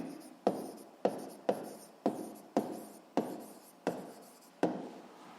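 Handwriting on paper while noting down physics: about nine quick, evenly spaced scratchy strokes, each a sharp onset that fades, close and fairly quiet with no talking.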